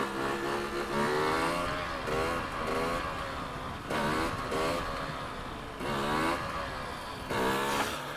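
A 2020 KTM 300 TPI two-stroke enduro motorcycle revs hard for a wheelie, its engine rising and falling in several sharp throttle bursts, loud and close, with no talking over it.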